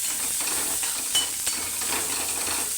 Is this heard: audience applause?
no